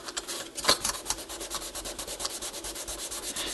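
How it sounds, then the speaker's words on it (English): Sandpaper scrubbing a brass tube from a 1950s NuTone K model two-note long tube door chime, a steady close rasping rub in quick repeated strokes with no talking. "as you clean it and hone it, what you're going to find is when you pull the sandpaper out, it's going to have brass shavings on it"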